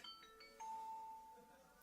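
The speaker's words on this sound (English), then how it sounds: "Yes, that was my phone battery. It's low." A phone's low-battery alert sounds as a brief, faint electronic chime: a few quick high tones and then one longer sustained note, all quiet against a soft background.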